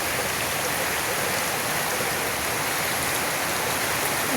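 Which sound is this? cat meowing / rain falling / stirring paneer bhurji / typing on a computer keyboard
rain falling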